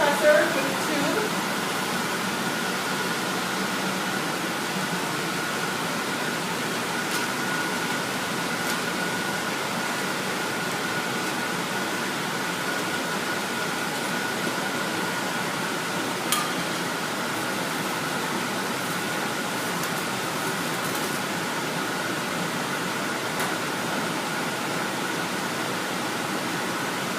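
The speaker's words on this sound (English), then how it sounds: "So we use an air compressor with a tube." An air compressor with a tube supplying vacuum in a pharmacy compounding setting for cyclosporine ophthalmic drops runs as a steady, even hum and hiss through the whole stretch, with a faint tonal whine and a couple of small clicks.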